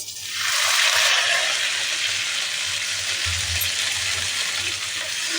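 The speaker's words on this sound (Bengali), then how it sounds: "এবার সমস্ত কুমড়ো শাকগুলোকেই আমি এর মধ্যে দিয়ে দেবো" Pumpkin greens dropped into a hot pan with nigella seeds, bursting into a loud hissing sizzle that settles into a steady frying crackle, close up with no talking.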